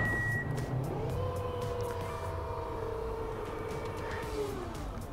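The electric tailgate of a Hyundai Ioniq 5 runs with a smooth motor whine that slides in pitch as it travels, preceded by a short electronic beep, close up and continuous for several seconds.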